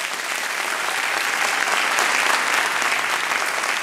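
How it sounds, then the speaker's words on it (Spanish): A church congregation claps in dense, sustained applause that fills the room evenly for a few seconds, with no voices standing out. "Dale un aplauso al Señor."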